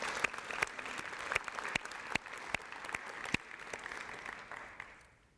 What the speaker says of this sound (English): Can we just give them a real quick round of applause?